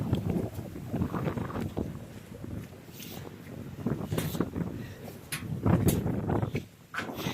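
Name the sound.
strong wind on mountain top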